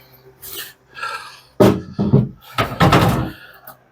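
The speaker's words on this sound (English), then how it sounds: "so I'm popping the door off real fast" Door being popped off a VW Beetle during a custom lowback bucket seat install, a few close metallic knocks and thunks with someone talking between them.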